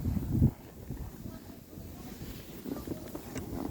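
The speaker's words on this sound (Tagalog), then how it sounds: "Mahangin talaga." Gusty wind buffets the microphone in low rumbling bursts, strongest at the start, with faint background noise and no clear talk.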